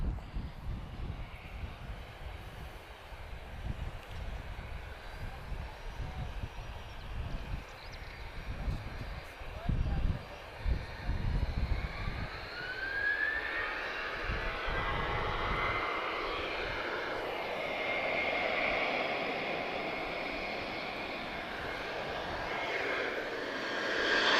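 A Boeing 737-8B6 moving at Lisbon Airport, jet engine roar building from a low rumble into a loud, sustained whine that fills the second half, with wind buffeting and a voice talking early on.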